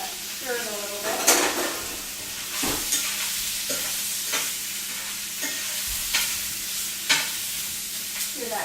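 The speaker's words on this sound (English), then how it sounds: "Hear that good sizzle," A sweet and sour mixture sizzles in a pan while a utensil stirs it, giving a steady frying hiss broken by repeated scraping and clinking strokes against the metal, close and fairly loud.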